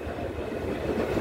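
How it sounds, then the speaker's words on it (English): Running rumble of an R160 subway train on an E express bound for Jamaica Center, a steady close, loud low roar with faint rhythmic wheel clatter throughout and no voices. "This is a Jamaica Center-bound E express train."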